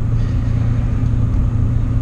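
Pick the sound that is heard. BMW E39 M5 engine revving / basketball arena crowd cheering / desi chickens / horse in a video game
BMW E39 M5 engine revving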